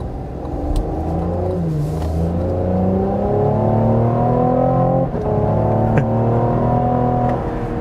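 A 2025 Cadillac CT5 Premium Luxury with its twin-turbo V6 accelerates hard onto a highway, engine note rising steadily through the gears with a brief dip at a shift, loud and continuous from inside the car.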